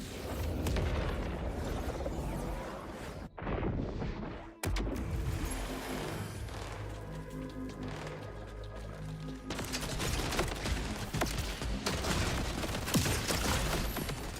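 Rocket launcher explosions boom and rumble repeatedly in a video game, a dense, loud barrage of blasts with a brief drop to near quiet midway.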